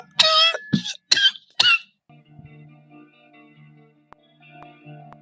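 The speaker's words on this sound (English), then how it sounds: "I'm gonna go back to coughing my guts out." A person coughs in three or four harsh, loud bursts close by, followed by quiet with faint low background hum.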